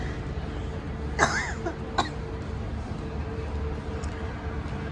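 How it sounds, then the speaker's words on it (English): Two sharp coughs about a second apart, close by, over a steady hum of outdoor street ambience on Collins Street in Melbourne. "And I'm gonna cough."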